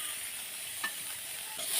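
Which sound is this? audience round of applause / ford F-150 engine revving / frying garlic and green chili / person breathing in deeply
frying garlic and green chili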